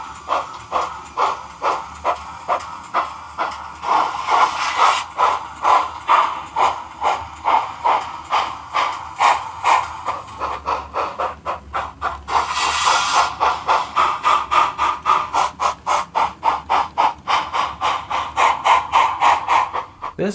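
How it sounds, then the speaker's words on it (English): A model steam locomotive with a WOWSound sound decoder gives a steady run of loud, rhythmic chuffs with hissing steam. The beat stays regular as the chuff pattern changes partway through, and a brief burst of hiss comes near the middle. "This will change the chuff."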